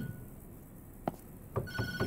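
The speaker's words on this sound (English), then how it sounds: "Don't answer the phone." A telephone rings in the horror video game Tattletail, a few short bell bursts arriving late over a faint, low background hum, with no talking.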